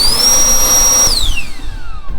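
A high-power Pineapple-brand water-blower fan runs loud and steady at speed setting 3, a dense rushing whir with a high whine that slides downward partway through as the motor note shifts.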